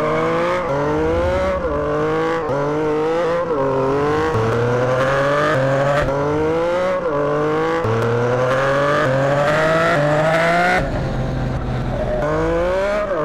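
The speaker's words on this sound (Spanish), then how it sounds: "Eso acelera esta moto" A Yamaha MT-09 motorcycle in a GTA game revs hard and pulls through repeated gear shifts, the engine note climbing and dropping in a steady loud cycle, close and continuous with no talk.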